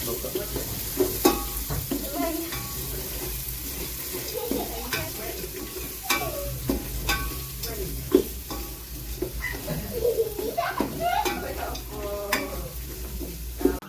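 Onions fry in a pot for dum biryani, a continuous sizzle broken by repeated spoon scrapes and clinks at an uneven rhythm, with faint voices now and then in the background.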